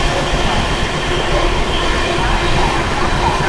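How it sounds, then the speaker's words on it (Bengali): The Netaji Express runs at high speed on the Howrah to Kalka route, heard from on board as a loud, dense, continuous rush and rumble of wheels and carriages with no letup. "আমাদের নেতাজি এক্সপ্রেস মারাত্মক স্পিডে বলতে পারো স্কিপ করছে পুরুষোত্তম এক্সপ্রেস"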